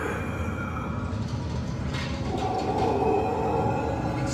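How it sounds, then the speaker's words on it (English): A theme-park train ride at Universal Studios Orlando rolls along with a continuous rumbling clatter and broadband rail noise, heard from inside the moving carriage for a few seconds. "That was a quick train ride."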